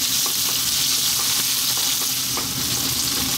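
Chopped onion frying in hot oil with spices over lively heat, a steady loud sizzle and crackle with occasional stirring clicks, no talk over it.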